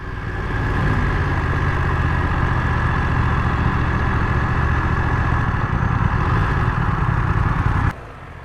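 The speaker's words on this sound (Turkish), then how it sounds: "egzoz sesi böyle bir dediğim gibi Ducati'ye benziyor böyle" A BMW F900 XR motorcycle engine idles steadily with a low, throbbing exhaust rumble for several seconds, then suddenly drops off near the end.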